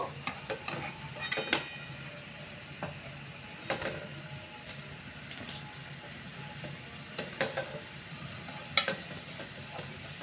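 Fried banana pithas lifted one by one from hot oil, with faint sizzling underneath and several sharp clinks and scrapes of a utensil against the pan spread through the clip.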